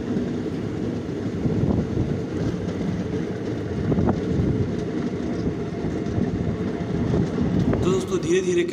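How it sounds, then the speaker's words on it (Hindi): A train pulls into Shahganj railway station in India, a steady loud rumble of wheels and carriage noise with wind buffeting the microphone, continuing throughout without letup. "धीरे धीरे करके हमारी ट्रेन अब शाहगंज रेलवे स्टेशन पहुंच गई है।"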